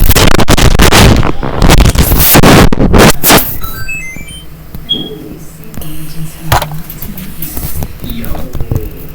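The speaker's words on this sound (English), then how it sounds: "The train was stopped and hitting the City Hall station, then crashes in an explosion." A train crashing and exploding at a City Hall station in a video game: a dense burst of loud explosive blasts and bangs for the first few seconds, then fading debris crackle and scattered pops with electronic tones.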